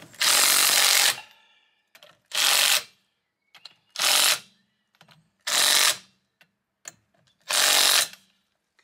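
Power tool tightening wheel bolts during a brake pad and worn disc replacement, heard as five loud, close bursts of about a second each, separated by short pauses with faint clicks between them.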